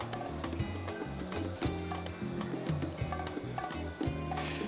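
Food browning in a hot pan gives a steady close sizzle with fine crackles, mixed under prominent rhythmic background music throughout.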